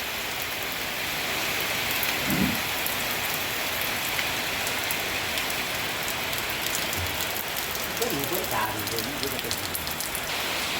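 Steady rain pours down over a farm where a front gate is being built and papaya is being planted, a dense continuous hiss throughout with brief faint sounds near the middle and end.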